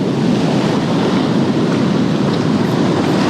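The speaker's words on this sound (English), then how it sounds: "these waves that crash right on the beach" Waves crash steadily onto a steep surf-fishing beach in California, a loud, continuous roar of surf and wind noise without a break.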